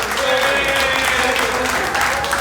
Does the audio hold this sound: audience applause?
yes